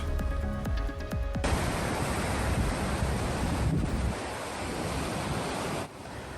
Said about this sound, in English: You can see just how big the waves were crashing at Point Lobos earlier today.